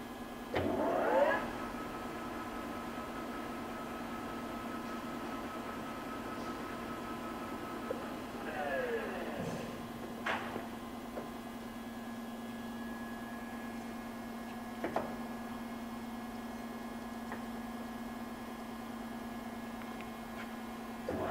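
A 24 x 120 inch Hwacheon engine lathe runs at speed, giving a steady, quiet mechanical hum with faint tonal whine and a few soft clunks, with no gear noise.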